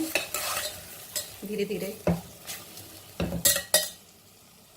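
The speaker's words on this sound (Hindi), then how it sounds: "भिंडियों को भी भून लेते हैं।" Okra being stirred as it fries in a pan for Sindhi garlic potato-okra sabzi, with close scraping strokes and clinks of a spoon against the pan over a soft sizzle; a brief voice speaks.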